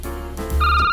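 A telephone rings inside a security booth in a horror video game, a short electronic tone over a low hum that grows louder and brighter in the final half second.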